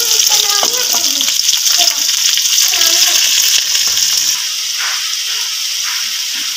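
Minced meat (keema) added to sliced onions frying in hot oil, a loud continuous sizzle with stirring scrapes and clatter, easing slightly toward the end.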